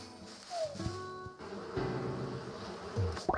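Wasps in Animal Crossing, a brief buzzing swarm that rises and falls in pitch over soft game tones, fairly quiet and close.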